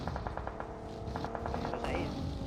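Automatic gunfire in the PUBG Mobile game, two rapid bursts of evenly spaced shots over constant background game noise, with a short gap between them.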